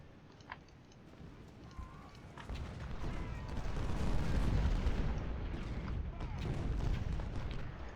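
Musket fire from massed Civil War troops in Ultimate General: Civil War rumbles as a distant, continuous crackle of volleys, swelling louder in the middle and staying dense to the end, fairly faint overall.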